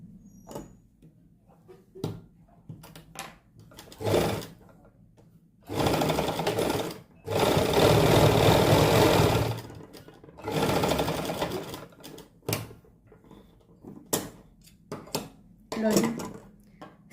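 A sewing machine stitches a salwar belt in several bursts of loud whirring, the longest lasting a few seconds, separated by pauses filled with fabric handling and speech.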